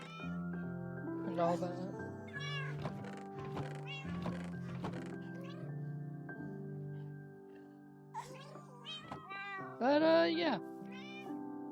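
Cats in the video game Minecraft meow repeatedly, with several short mews and one longer, louder cry near the end, mixed with a tonal in-game background. A person talks briefly over the sounds.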